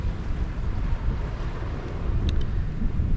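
Choppy sea and gusting wind at a rocky shore at Friars Point in Barry, with steady broadband surf and wind buffeting close to the microphone throughout, continuous and fairly loud.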